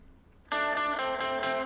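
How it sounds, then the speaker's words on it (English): A guitar hook blends a warbled, mangled octave-effect guitar with a clean guitar, entering abruptly after a quiet lead-in and ringing as a bright, sustained harmonic chord with a few rhythmic pulses. "I've blended that with another clean guitar by itself."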